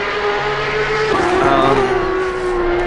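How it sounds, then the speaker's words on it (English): A Porsche 992 Cup race car with a naturally aspirated 4-litre water-cooled flat-six, screaming at high revs on track at Zandvoort, a loud steady engine note that shifts pitch slightly as it passes. "Engine naturally aspirated, 4-litre water-cooled, flat 6. As we can hear it screaming there."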